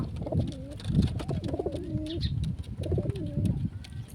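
Pigeons cooing inside a pigeon house, several close, repeated throaty coos in a steady rhythm with faint shuffling and a few small chirps between calls.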